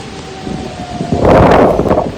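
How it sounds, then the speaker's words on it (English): A steady, distant tornado siren wail, sounding for a destructive severe wind warning near Lansing, Michigan, holds for about a second before loud rushing wind and storm noise swell up and bury it. "you can hear tornado sirens sounding from the destructive severe wind that was issued"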